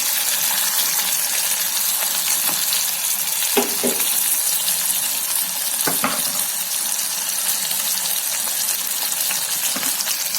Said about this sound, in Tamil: தக்காளி நல்லா வதக்கணும், இல்லைன்னா நல்லா இருக்காது